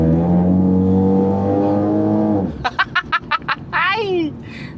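Loud, harsh exhaust roar from a vehicle with a detached, fallen-off muffler, a steady drone that breaks into rapid rhythmic bursts near the end, with voices present.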